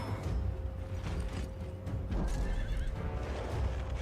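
A barbarian horse archer's mount in Civilization VI gives a drawn-out neigh amid clip-clopping hooves, close and clear with a light mechanical clatter in the background.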